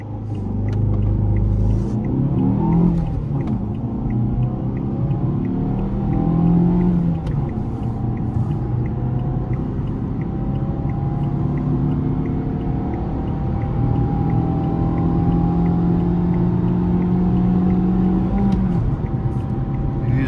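A Fiat Egea 1.4 Fire engine pulls hard through the gears for about twenty seconds, a steady droning rise in pitch that drops at each shift and climbs again, heard from inside the car.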